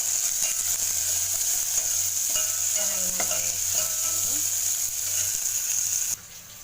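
Schezwan fried rice stirred and frying in a hot pan, a steady bright sizzle with scraping stir strokes and light clinks, holding constant before cutting off abruptly near the end.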